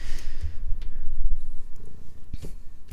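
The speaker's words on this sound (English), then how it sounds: "He's such a loud purr though." Maxwell the cat purrs close to the microphone, a low rumbling, pulsing purr with a soft crackle that carries steadily from start to finish.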